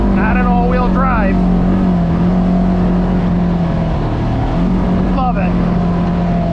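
A Polaris RZR side-by-side climbing a hill on a 50-inch trail at Willow Creek in the Allegheny, its engine droning loud and close with a steady pitch and brief rising revs, with voices heard over it.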